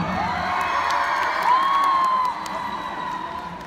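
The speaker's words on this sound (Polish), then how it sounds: "Wielkie brawa!" A crowd at the Young Stars Festival 2018 cheers and applauds, a dense, fairly loud wash of voices and clapping with a few whoops, continuing steadily for a few seconds.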